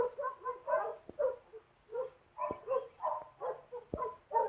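A big dog in a 1947 film barking repeatedly in short, rhythmic bursts, with a few yips mixed in, moderately loud against a quiet background.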